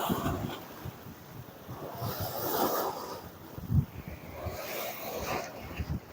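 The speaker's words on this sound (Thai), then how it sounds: "ฟังเสียงคลื่นมันก็เพลินดีกันนะ" Waves at high tide wash against the rocky shore of Won Napha beach, Bang Saen, Thailand, in slow, rolling surges, with swishing water and a few splashes and knocks close by, no talking.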